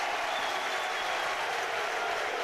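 A rugby league crowd at a Catalans v Leeds match reacts to a late challenge with a steady, dense roar of booing and jeering that carries on without a break.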